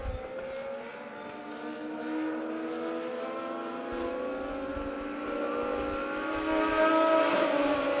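Race cars in an INX Legends heat race at Monett Motor Speedway roar continuously, several engines droning and rising in pitch as they push around the dirt oval, loud and sustained with no talk over them.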